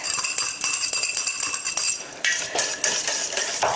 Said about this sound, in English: So in with the eggs and give them a little bit of a whisk